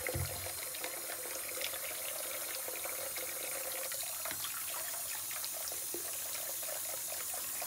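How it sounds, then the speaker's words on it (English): Makeup brushes rinsed under a running tap into a sink with a white colander, water flowing steadily and softly throughout with small splashes as the brushes move. "Give it a little rinse, keep going, a little rinse, keep going, drop more soap."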